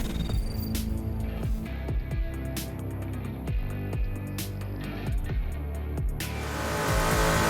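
Race car engine roaring loudly in Assetto Corsa at the 1977 Bathurst 1000, steady harmonic drone with repeated downshift blips and revs, building louder toward the end, no talking.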